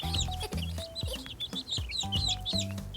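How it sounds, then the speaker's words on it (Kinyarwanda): Cartoon chickens cluck in repeated bursts over bright background music, the fowl calls close and lively throughout with no talking. "Uyu munsi Akili yakinnye n'imishwi y'inshuti"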